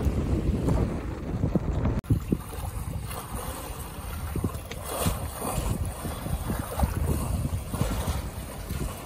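Breeze over a sailboat under way off Little Sturgeon Bay, Wisconsin, a steady rushing wind buffeting the microphone with soft water and hull sounds beneath, continuous and fairly close, with no talk.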